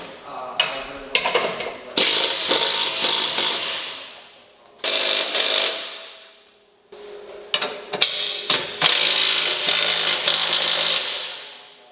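Ratchet wrench tightening the bolts on bolt-on traction bars, heard as bursts of rapid clicking ratcheting in several bouts separated by short pauses, fairly close and loud with no talking.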